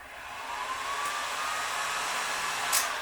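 A heat gun blows steadily while warming vinyl wrap on a motorcycle helmet, a continuous close airy whoosh with a faint tonal whine and no talking.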